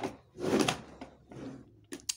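A dressing table drawer being pulled open, giving a few close, scraping and knocking bursts followed by two sharp clicks near the end, with no talking.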